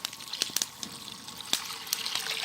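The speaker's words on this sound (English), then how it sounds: "I'll put some water in the pot." Water poured into a Dutch oven pot full of potatoes, about 32 ounces, splashing and trickling close by in an uneven stream with soft sloshing peaks.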